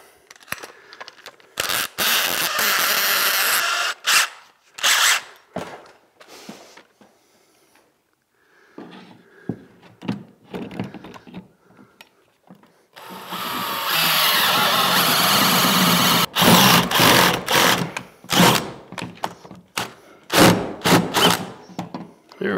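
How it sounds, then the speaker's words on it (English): A power drill fitted with a spade bit and bit extender bores a hole through a wall to hide TV wires, in several loud, close whirring bursts of a few seconds each, separated by pauses and quieter handling noises. "I'm gonna get my bit extender and a spade bit. I'll make another hole."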